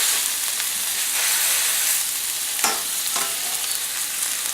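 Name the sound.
Italian sausage patties frying in grease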